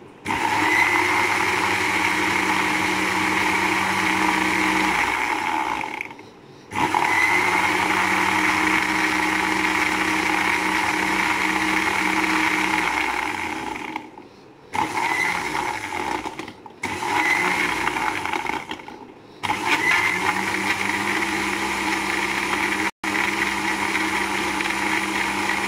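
An electric mixer-grinder whirring steadily while grinding masala paste for an egg and potato gravy, a loud motor drone running in long bursts with several short pauses between runs.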